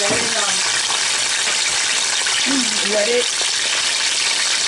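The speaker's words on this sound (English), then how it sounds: "let it continue to fry there until they're golden on all sides before we smash them" Plantain slices frying in hot oil in a deep pot for tostones give a steady, dense sizzle throughout, close and fairly loud, with a voice speaking over it at moments.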